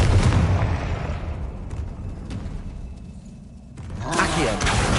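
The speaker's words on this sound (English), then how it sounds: "Flipendo!" Flipendo spell cast in Hogwarts Legacy, a burst of loud blasting and booming impact sounds at the start, fading into quieter effects, then rising again with a swelling magical whoosh near the end.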